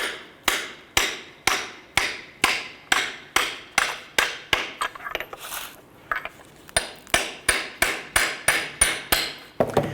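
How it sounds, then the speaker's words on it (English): A hammer taps on a socket to seat the front control arm bushing sleeve on a 2009-2015 Honda Pilot, giving sharp, evenly spaced metallic strikes, about two per second. The strikes are loud and close, with a brief irregular pause midway before the steady rhythm resumes. "we're just gonna tap this into place"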